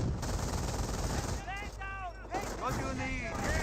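Gunfire and explosions from the World War II strategy game Company of Heroes, crackling in dense bursts under an excited commentator's voice.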